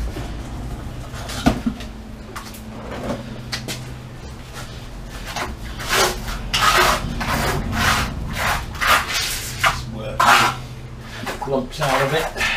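Screed is trowelled across a garage floor on a hot day, giving repeated rhythmic scraping strokes close by with a low steady hum underneath.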